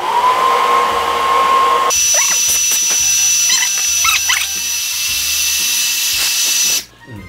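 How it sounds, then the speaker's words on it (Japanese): A hair dryer blows on wet paint to dry it, switching on partway through and holding a loud, steady whirring hiss until it cuts off near the end, with a few brief voices around it. "ドライヤー当てると"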